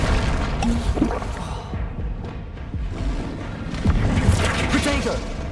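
Flipendo spell cast in a Harry Potter video game: a booming magical impact with thuds and crashes over a continuous rumble of game sound, with a voice talking partway through.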